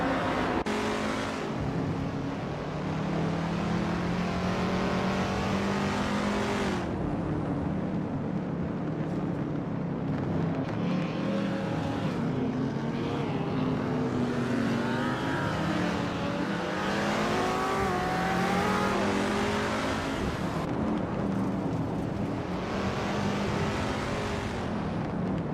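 Race cars roaring through a video game race, including a 1968 Dodge Dart Hemi Superstock, with continuous engine drone that rises and falls in pitch as cars accelerate and shift, loud and unbroken.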